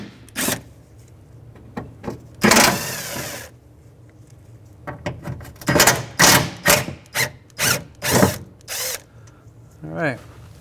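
Power driver spinning out 10mm bolts from a 2007-2013 Acura MDX rear door while the power window regulator is replaced, loud close bursts of whirring separated by pauses, ending in a short ratcheting rattle.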